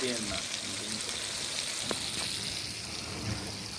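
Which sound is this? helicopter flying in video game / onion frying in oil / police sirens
onion frying in oil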